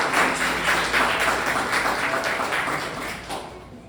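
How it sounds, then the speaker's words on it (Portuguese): A church congregation applauds in honour of their pastor during an evening service, a full, continuous burst of clapping that stays loud before slowly tapering off. "Aplauda o Senhor pela vida do nosso pastor."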